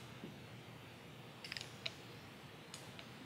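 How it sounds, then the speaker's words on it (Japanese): Small scissors snip fly-tying fiber at a quiet tying bench, giving a few faint, crisp clicks in a short cluster and then two more isolated snips against a soft background hiss. "ハサミ"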